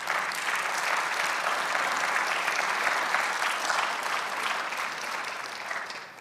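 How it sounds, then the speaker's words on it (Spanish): A church congregation at a Spanish-language sermon gives sustained, even applause to the Lord, a steady wash of many hands clapping at moderate distance with no break. "Un aplauso al Señor."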